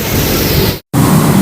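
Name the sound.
heavy rain pouring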